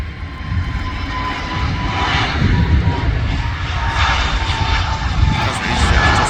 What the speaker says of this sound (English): the plane's taking off in that direction, because the wind is blowing in this direction.